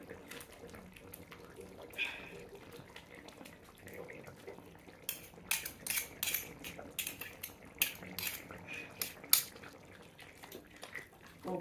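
Malabar tamarind (kudampuli) paste is mashed into a fish curry in a pot: faint scraping and clinking of a utensil against the metal, with a burst of quick, sharper taps and knocks in the second half.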